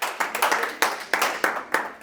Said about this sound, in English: How about a round of applause for our sales executives?